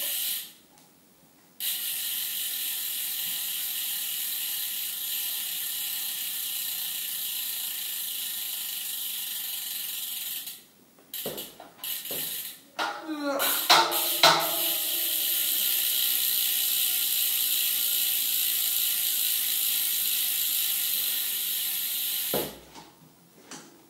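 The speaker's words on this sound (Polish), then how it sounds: "Gustaw, czy ta piasta jest głośno" A new DAVEO road-bike wheelset's freewheeling hub gives a loud, continuous buzzing ratchet as the wheel coasts, stopping briefly in the middle with a few clicks and scrapes before the whirring rattle resumes, close and alone.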